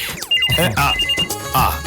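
A loud electronic phone ringtone trills repeatedly in a melodic pattern, close and prominent, with a voice briefly mixed in.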